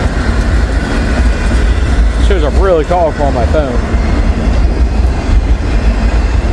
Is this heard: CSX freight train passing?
yes